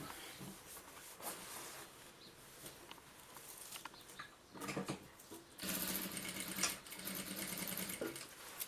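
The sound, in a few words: sewing machine stitching fabric for a baby bag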